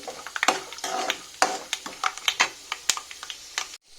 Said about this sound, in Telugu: ఇప్పుడు వీటిని కూడా సపరేట్ అయితే వేయించేసుకుంటున్నాను అనమాట.